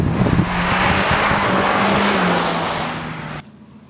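The engine of a Mazda MX-5 roadster runs loud and close, with a gritty rumble and a rising then steady revving tone that cuts off abruptly near the end.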